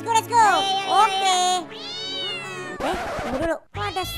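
A video game cat meows repeatedly in drawn-out, rising and falling cries, loud and close, with voices chattering alongside.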